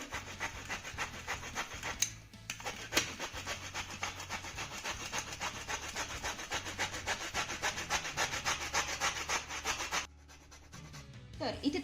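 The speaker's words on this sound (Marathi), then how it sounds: "हे बघा अशा पद्धतीने ही साल आपल्याला किसून घ्यायची आहे" An orange's peel is grated lightly against a metal grater in a home kitchen, making close, steady rhythmic scraping strokes that run continuously with a brief pause, and no talking.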